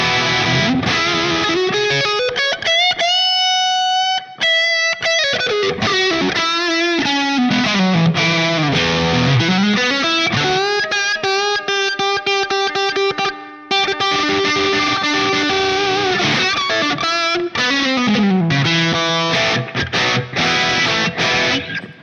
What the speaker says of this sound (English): here's the classic distortion of the Proco Rat.